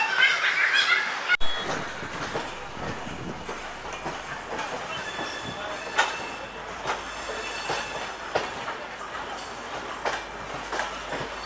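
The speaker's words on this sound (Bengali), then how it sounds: "খড়গপুর স্টেশন থেকে ট্রেন ছেড়ে দিয়েছে" Train pulling out of Kharagpur station, with steady rumbling carriages, rhythmic clickety-clack of wheels over rail joints and occasional squeals, heard from on board.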